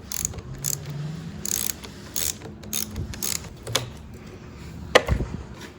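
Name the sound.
socket wrench loosening clutch lever bolt nut on motorcycle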